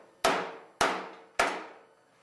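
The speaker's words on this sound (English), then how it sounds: "take a body hammer, and you can tap the metal" Three sharp metallic taps from a body hammer on a car fender's sheet metal, evenly spaced, each ringing briefly before fading.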